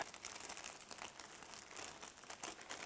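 A thin plastic food bag for curry is folded by hand, giving a steady, faint, close crinkling and rustling that runs throughout without pause and with no voices.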